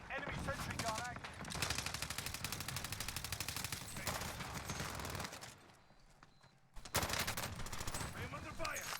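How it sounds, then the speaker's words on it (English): An enemy sentry gun in a video game fires long, rapid automatic bursts, loud and close, broken by a brief lull before the shooting resumes. "Enemy sentry gun active."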